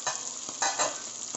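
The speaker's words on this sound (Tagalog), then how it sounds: "Yan, kumukulo na." Soup for dinaing na bangus bubbling and sizzling in a pot, a busy continuous hiss with a few soft pops and stirring bumps, close and fairly quiet with no voices.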